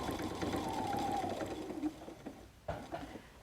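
A sewing machine runs steadily as it back stitches along the edge of fabric for a messenger bag, a low whirring hum for nearly two seconds, then a pause and a short final burst.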